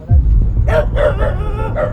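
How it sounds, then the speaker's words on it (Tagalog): Close, loud dog barks and yips in a quick, repeated run, with an electronic, game-like quality and rumbling noise underneath. "Ito na agad yung aso"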